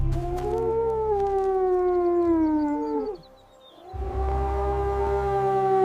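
A wolf howls in two long, drawn-out calls, the first slowly sliding downward in pitch before breaking off, then a second sustained howl after a brief pause, loud and near.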